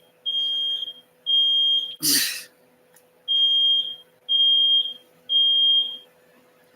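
A fire alarm beeps in long, loud, high-pitched tones, six in an irregular pattern with short gaps, sounding close indoors, with a brief burst of noise and a single spoken word between them.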